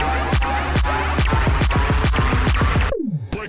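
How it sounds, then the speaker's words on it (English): Synth laser zaps in an electronic track's pre-drop, a rapid run of repeated downward-sweeping pulses, loud and close, ending in one long falling sweep and a short cut to silence. "And then this laser on the pre-drop, so it sounds like this."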